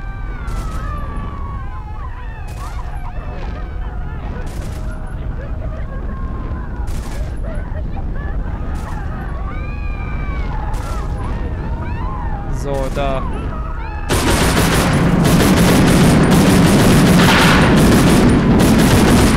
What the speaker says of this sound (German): So, wir nehmen jetzt die AK wieder.